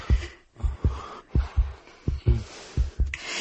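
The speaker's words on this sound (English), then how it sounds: "Just thinking about him now is making her heartbeat quicken." Heartbeat sound effect speeding up, a steady series of deep, thudding double beats that come slightly faster toward the end, loud and alone with no talk.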